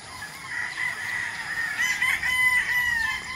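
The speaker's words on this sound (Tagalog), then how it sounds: "kung makikita nyo yung mga pullets ni Attorney Jun Mendoza" Gamefowl at a gamefarm crow with a drawn-out cock-a-doodle-doo that rises and holds across the whole stretch, with clucking mixed in, heard at moderate distance and fairly loud, with no talk.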